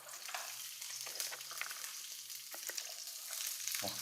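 Onions and long beans frying in oil, a soft steady sizzle with occasional stirring clicks, fairly quiet and close, no talking.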